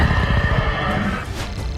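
Dinosaur roar sound effect, a loud, harsh, rasping bellow with a whinnying, horse-like edge that fills the whole moment, close and unbroken.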